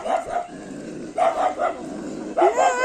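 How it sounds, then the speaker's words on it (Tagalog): Several dogs bark and yelp in sharp clusters during a street parade, close and agitated, with quick overlapping bursts of a dog fight. "Mga aso. Away."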